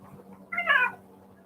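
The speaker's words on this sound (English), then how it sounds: "look at this cat, folks." A big fluffy 19-pound cat gives a single drawn-out meow, close and clear, over quiet outdoor background hum.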